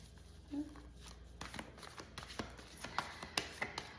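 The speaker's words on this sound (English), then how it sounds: "I'm gonna go ahead and shuffle." Tarot cards being shuffled up close, with crisp riffling bursts and a few soft taps and clicks as the deck is handled.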